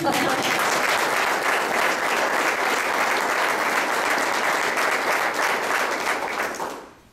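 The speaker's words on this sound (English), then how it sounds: "Can I have some applause?" Audience applause at a press conference announcing a university's acceptance into NCAA Division II, a dense, steady roar of many hands clapping for about six seconds before fading out at the end.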